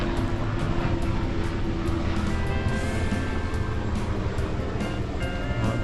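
A helicopter's steady, loud engine roar drones overhead without pause, a dense rumbling wash filling the whole stretch.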